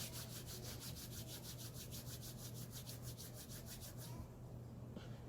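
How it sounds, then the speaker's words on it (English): Hair being rolled between the palms to form a loc makes a faint, quick rhythmic rubbing, a run of even brushing strokes that stops shortly before the end. "I'm going to go ahead and just palm roll the rest of that piece"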